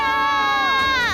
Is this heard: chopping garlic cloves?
no